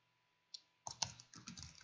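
Quiet keystrokes on a computer keyboard while entering network switch commands in a simulator, a single tap followed by a quick run of clicks, close and alone.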